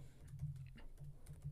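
Quiet keystrokes on a computer keyboard patter in short, uneven bursts, soft and close, over a low background hum.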